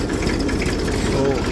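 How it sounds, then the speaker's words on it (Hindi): A Massey tractor runs slowly in second gear through a field during wheat sowing, producing a continuous, fairly loud, low engine drone with a steady chugging texture. "तो ट्रैक्टर लेकर चल रहे हैं जी, दूसरे गियर में चल रहा है जी मैसी धीरे धीरे।"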